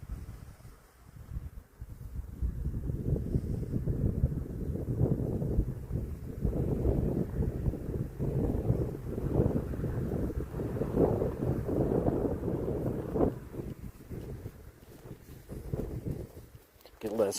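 Wind blows hard across Palmer Lake in Colorado, a loud, low, rumbling buffeting that swells in gusts and lasts almost the whole time.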